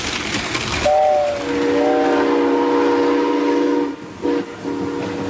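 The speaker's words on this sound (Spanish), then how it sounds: "este tren está pasando a buena marcha" A train rushes past at speed with a loud, sustained rumble while its horn sounds long tonal blasts, briefly cut off and then resumed near the end.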